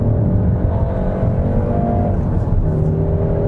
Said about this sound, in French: la sonorité du moteur qui est assez quelconque en mode normal, assez artificiel en mode sport